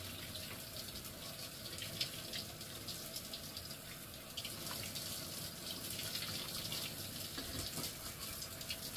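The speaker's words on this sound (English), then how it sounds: "Now we rinse everything off." Water runs steadily from a tap while someone rinses off during a grooming routine, a soft, even splashing hiss that stays faint and unbroken throughout, with no talking.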